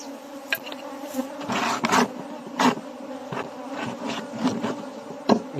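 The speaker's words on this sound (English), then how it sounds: "This is the housefly." A housefly buzzes close by in uneven bursts, its drone rising and falling as it flits around, with no voices present.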